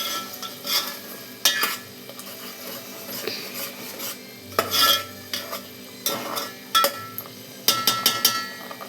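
A spoon scrapes and stirs onion and tomato masala in a pan, cooking for a simple biryani, in repeated near scraping strokes over a soft background sizzle, with no talking.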